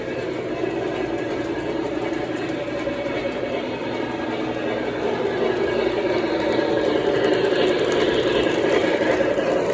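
A Long Island railway train runs along the tracks with a steady, moderately loud rumble and engine drone, continuous throughout with rising intensity toward the end.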